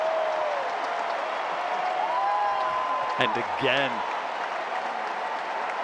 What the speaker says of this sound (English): this crowd are brought to their toes, giving a standing ovation for the courageousness of Cobolli